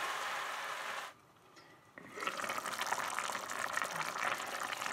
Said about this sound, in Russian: Наш соус так вот медленно кипит на очень низком огне.